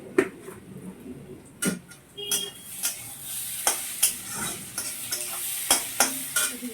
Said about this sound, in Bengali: মাংসের মশলা কষা হচ্ছে